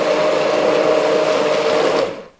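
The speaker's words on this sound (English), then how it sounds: "I'm going to blend this until it's very, very smooth." A blender pureeing a butter chicken sauce whirs steadily at high speed for a couple of seconds, then winds down to silence.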